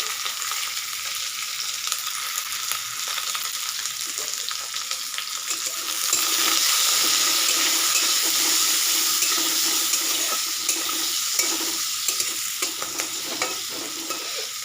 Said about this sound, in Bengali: আমি আলু ওর বিনগুলো একটু হালকা ভেজে নেব হলুদ দিয়ে দিচ্ছি